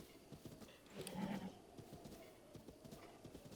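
A horse in the video game The Legend of Zelda: Breath of the Wild moves with quiet, steady hoof clip-clops and a soft snort or whinny near the start, faint and alone.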